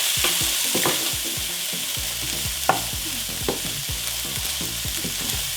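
Drained, rinsed canned black beans sauté in a pan with a constant hissing sizzle under repeated scraping stirs, with no talking.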